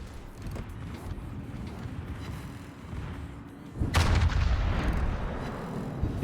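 Secondary guns on the Kremlin battleship in a naval video game fire in a steady rumble of distant booms, and then a sudden loud, close blast swells into a heavy roar.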